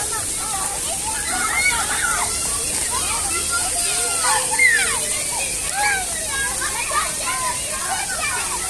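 A big bucket of water pours and splashes down onto children at a water park, a steady broad wash beneath many excited children's shouts and chatter.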